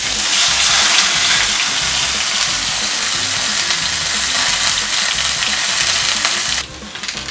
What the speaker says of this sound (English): Here's our screaming hot pan, you want it screaming hot, smoking away. And here we go, it's going to spit like a motherfucker